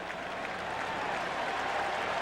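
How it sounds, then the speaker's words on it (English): A baseball crowd at a 1993 NLCS playoff game, Braves at Phillies, lets out a mock cheer after a strikeout: a steady, dense wash of cheering and clapping that holds at an even level throughout. "And the mock cheer goes up from the crowd here"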